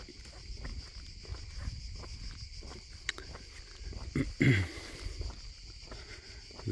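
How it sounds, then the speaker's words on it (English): Cicadas buzz in hot valley olive country near Perugia, Italy, a faint steady shrill drone behind footsteps and light outdoor noise, with no talk. "The cicadas, of course."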